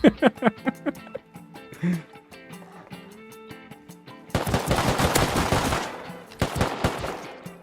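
Bursts of rapid gunfire crackle in a video game, with sharp shots at first, then sustained dense volleys of automatic fire.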